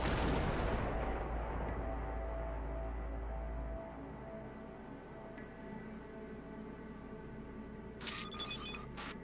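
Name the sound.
grenade explosion in the video game Cyberpunk 2077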